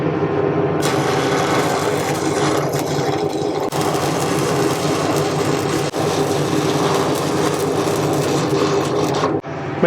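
Arc welding with a 603 buildup hardfacing electrode, a continuous loud crackling sizzle that holds steady for nearly ten seconds, with brief breaks near the end, alone without talk.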